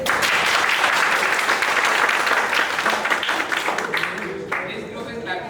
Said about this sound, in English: This group is clapping more than others.